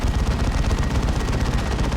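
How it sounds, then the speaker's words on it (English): Space Marine Dreadnoughts with twin assault cannons firing in a Dawn of War 2 battle, a dense, continuous rapid-fire roar of heavy autocannon bursts at steady loudness for the whole stretch. "Both Space Marine Dreadnoughts have assault cannons."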